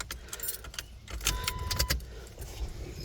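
Car keys jangling in several quick metallic bursts beside a 1993 Chevrolet S10 Blazer, close and fairly soft, with a brief tone under the clatter and no talk.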